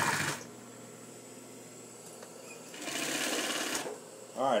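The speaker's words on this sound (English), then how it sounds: "The welt cord is guiding my sewing machine." A sewing machine runs along welt cord while stitching a throw pillow, with one short burst near the start and a longer, louder run later, close and steady.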